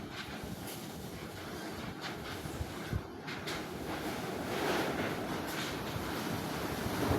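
Gusty wind blows across a building rooftop under construction, a steady, fairly soft broadband rush that swells and eases with the gusts.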